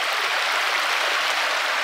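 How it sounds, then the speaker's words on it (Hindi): Hot spring water pours steadily down over warm rocks on the road to Deosai in Pakistan, a continuous close rushing splash with no voices. "वो ऊपर से ये आ रहा है पानी"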